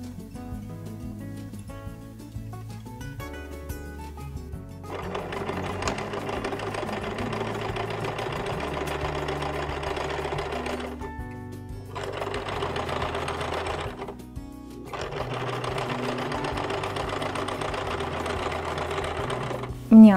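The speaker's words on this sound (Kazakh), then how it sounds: "Міне, айналдырып тігіп шықтық." An electric sewing machine stitches around the lining of a hat in steady, rapid mechanical runs, stopping briefly and restarting, loud and close, with low background tones beneath.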